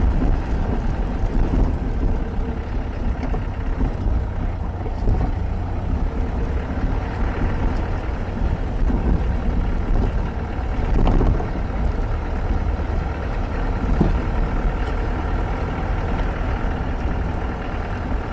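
A tractor engine drones steadily while driving on a cold day, a loud continuous low rumble with rough road and wind noise and no pauses.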